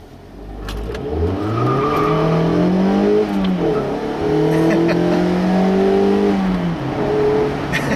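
A 2016 Mazda MX-5 Miata's engine revs rise and fall continuously as the car slides, loud and close, with faint tire noise underneath.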